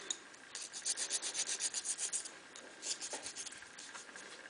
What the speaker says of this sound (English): you can take either a tougher grit sandpaper or just a nail file and just kind of soften the edge going towards the point